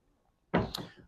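Side entry door on a Tiara 43 LS yacht, heard as a single solid thunk of the door closing or latching, followed by a short rattle, close and fairly loud.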